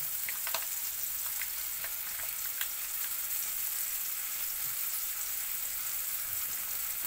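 Vegetables and oyster sauce sizzle steadily in a hot pan while being stirred, with a few brief scraping clicks early on and a constant frying hiss throughout, no one talking.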